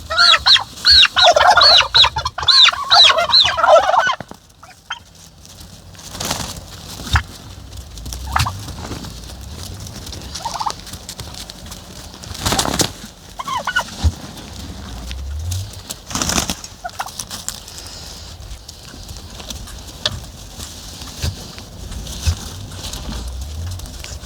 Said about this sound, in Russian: Уже одну индюшку нашу индюки топчут, уже видно, она уже будет нестись.